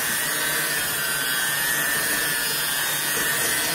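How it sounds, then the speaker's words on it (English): An electric mixer whirs continuously through fruit cocktail cake batter, a steady high-pitched motor drone close by with no talking. "So you want to just keep mixing it till it's thoroughly mixed together."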